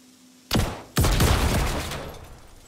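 Gunfire in the video game Star Citizen as boxes are shot: two sharp, loud reports in quick succession, the second with a long echoing rumble that fades out.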